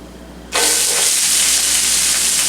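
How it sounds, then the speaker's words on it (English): Onions hitting hot olive oil in a pan over medium-high heat burst into a loud, steady sizzle that starts abruptly after a short quiet moment and holds strong with no talking. "add the onions and cook, stirring often, for about 5 minutes"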